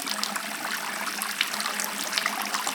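Water trickles and splashes steadily from a simple gravity tap on an 85-litre food-grade poly tank mounted on an Isuzu NPS truck build, a continuous close, bright stream with no voices.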